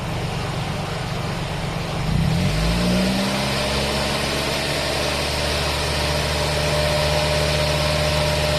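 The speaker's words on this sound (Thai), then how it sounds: "เร่งเครื่องนะครับ" A Nissan NV van engine idles steadily, then revs up about two seconds in and holds at a higher, louder drone for the rest, during air conditioning repair.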